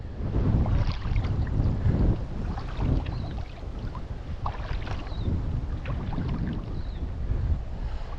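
Gusty wind buffets the microphone outdoors on the water during fly fishing, a continuous loud rushing roar with shifting gusts and no voices.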